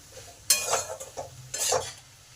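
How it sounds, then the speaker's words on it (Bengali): A spoon scrapes and clinks through a pan of frying food while salt and turmeric are mixed in, in two distinct bursts of stirring over a soft background sizzle. "এবার নুন আর হলুদটাকে ভালো করে মিশিয়ে নিই"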